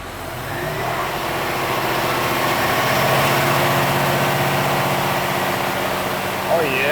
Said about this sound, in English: That was the first scream of a new truck.